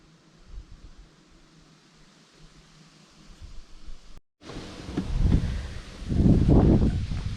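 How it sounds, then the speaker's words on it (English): Outdoor wind on a windy day: a faint, airy hiss at first, then stronger low, rumbling gusts buffet the microphone in uneven surges during the second half. "It's windy again"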